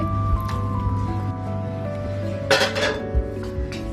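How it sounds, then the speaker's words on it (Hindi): Half a kilo of chicken goes into a pan of lightly browned ginger-garlic paste for chicken jalfrezi, giving a burst of sizzling and clinking partway through over a steady kitchen hum with no talk. "अब हम इसमें चिकन हाफ केजी डालेंगे।"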